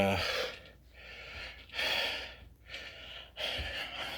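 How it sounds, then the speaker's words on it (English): Heavy, labored breathing after a chest and shoulder workout, with three or four loud, close gasping inhales and exhales in an uneven rhythm. "I'm breathing hard"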